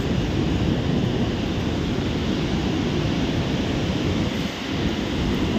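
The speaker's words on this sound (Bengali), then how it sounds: "নদীর আওয়াজ আমরা শুনতে পাচ্ছি।" The Saraswati river near Mana village in Uttarakhand, beside the Bhim Shila rock crossing, sends up a loud, dense roar of rushing mountain water that stays constant and close the whole time, with no talking.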